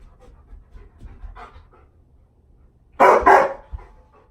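Diesel, a dog, pants softly during a fetch game, then lets out two loud, close barks in quick succession, followed by quieter breathing.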